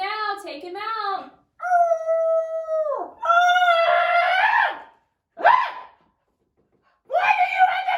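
A dog named Fluffy whines and howls in several drawn-out, wavering cries broken by short pauses, loud and close, with some cries sounding like a person imitating the dog.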